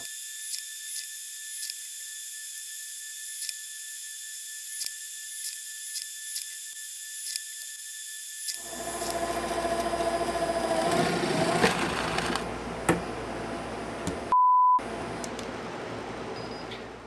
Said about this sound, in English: I'm going to use a stubby center bit to eliminate wandering, and I'm just going to drill these one at a time.